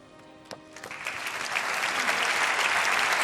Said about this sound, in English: let's have another big round of applause, please, for this year's Rookie of the Year in Moto3